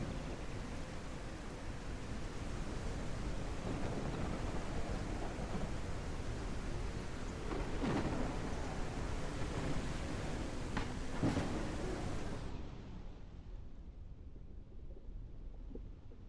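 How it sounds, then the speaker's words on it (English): A thunderstorm weather effect in the video game Cauldron Chronicles plays as a steady, loud roar of rain and rumbling wind, with a couple of sharp thunder cracks near the end before it cuts off to a quiet hiss. "So if we turn on our storm."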